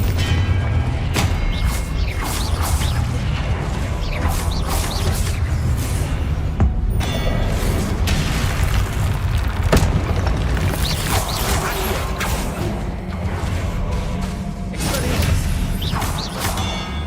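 Spell-casting blasts from the Hogwarts Legacy video game come as a long barrage of loud booms, whooshes and crashing impacts, closely spaced and layered over a constant rumbling game background.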